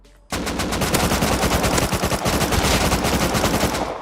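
An AK rifle in the survival game Rust firing a rapid, sustained automatic burst of loud, closely spaced gunshots that starts abruptly and runs for several seconds.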